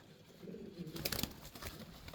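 Pigeons in a small cage give faint, low cooing calls, with a few soft rustles and shuffles nearby in a quiet setting.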